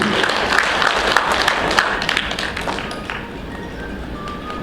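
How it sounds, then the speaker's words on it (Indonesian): An audience at a Minangkabau artists' forum inauguration ceremony claps in a dense round of applause, loud and close at first and gradually thinning and fading over several seconds. "Boleh kita berikan tepuk tangan meriah kembali hadirin yang dimuliakan."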